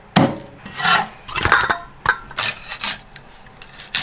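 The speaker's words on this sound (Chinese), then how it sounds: "把鱼头稍微给它剁小点儿。" Several sharp, heavy chops of a cleaver through a bighead carp's head on a wooden board, irregularly spaced with short pauses, close and fairly loud.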